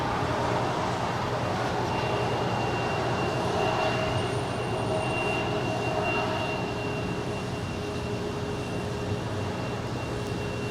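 JetBlue airliner rolling for takeoff on a runway at LAX, a steady, broad engine roar held at a constant level throughout, with a thin high whine riding on top and no voices.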